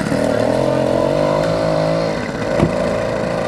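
A Bikeberry 80cc two-stroke engine kit bolted to a bicycle runs steadily at a loud, close, buzzing idle, with a brief rise in revs near the end.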